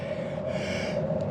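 Heavy, steady breathing from a rider on the historic railroad trail in mid-February cold, close and continuous with no pauses, with wind rushing over the microphone.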